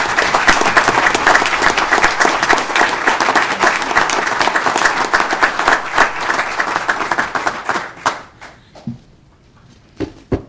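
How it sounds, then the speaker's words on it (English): Applause at a village board meeting, where a roomful of people clap steadily and fairly loudly for about eight seconds before it thins into a few scattered claps and dies away. "Again, let's give them a big round of applause."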